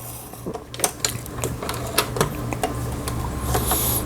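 A Jaguar 135 home sewing machine running, giving a close mechanical hum with a fast train of needle clicks and taps that rises slightly toward the end, and no speech.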